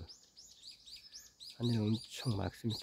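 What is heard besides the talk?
birds chirping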